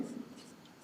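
A hand writes an accounting entry with a pen, light scratching strokes close by and fairly quiet, fading slightly as the writing goes on, with no talking.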